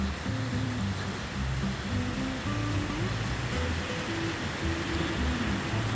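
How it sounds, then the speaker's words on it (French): A river flows below a hiking trail on Mont Balvay in Ain, France, a steady, loud rushing of water that fills the whole clip without letting up. "On entend une rivière en contrebas."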